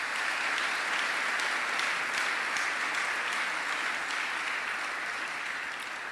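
A church congregation at a French-language family worship service applauds loudly and continuously, a dense, steady roar of many hands that fades slightly near the end.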